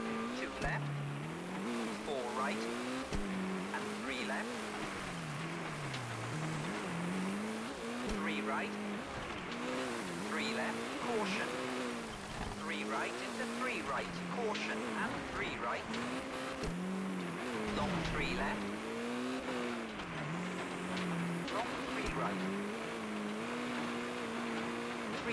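Rally car in the ToCA Race Driver 2 video game on a Euro Rally stage, its engine revving up and down continuously through the gears with occasional tire squeal, steady and loud, with a voice talking over it.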